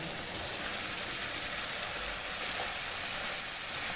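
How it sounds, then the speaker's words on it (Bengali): Okra poured into a hot pan gives a broad, steady sizzle, even and fairly faint, holding without pause throughout. "তো এখন আমি ভেন্ডিগুলো এখানে ঢেলে দেব, অ্যাড করে দেব।"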